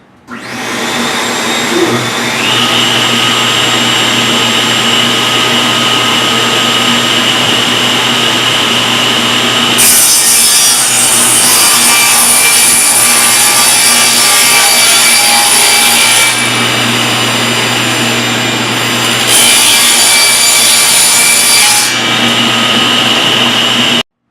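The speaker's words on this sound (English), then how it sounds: "we're going to rip this on the table saw at a 3-inch strip" A table saw rips a wooden board into a 3-inch strip, a loud continuous motor whine and roar with two stretches of harsher, brighter cutting noise as the blade bites the wood.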